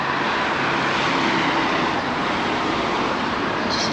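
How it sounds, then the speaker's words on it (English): Steady, loud broadband roar of passing road traffic on a busy Saturday-morning street in Palmanova, Mallorca, continuous and close with no talk over it. "It's a lot of traffic going up and down this road"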